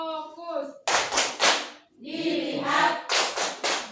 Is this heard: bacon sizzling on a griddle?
no